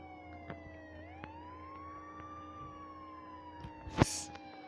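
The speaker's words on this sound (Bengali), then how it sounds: "ভাই সাইরেনটা অফ করতে হবে।" A police car siren in the Grand Theft Auto video game wails with a rising and falling tone, fairly faint, under light game ambience and a few clicks, ending in a short burst of noise.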